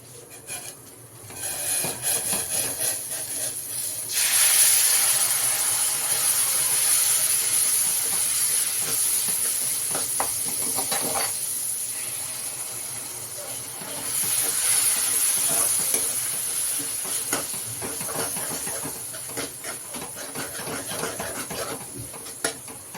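Hot boiling water poured a little at a time into egg curry masala for a Kerala egg curry, a steady hissing, rasping sizzle that swells twice, fairly close and continuous with no voices.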